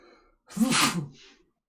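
A single loud sneeze close by, a sharp sudden burst after a quick intake of breath, then quiet.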